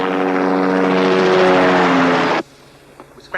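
Helicopter from a 1987 television drama, a loud steady rotor and engine drone with strong low harmonic bands that cuts off abruptly after about two and a half seconds, leaving faint quiet knocks.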